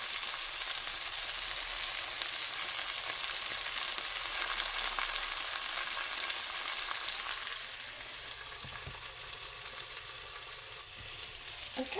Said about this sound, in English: so the peppers are browning very nicely.